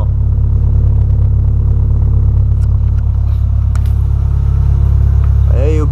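A VW Polo running on ethanol idles while warming up on a cold day, its exhaust giving a loud, steady low rumble throughout, with a brief voice heard near the end.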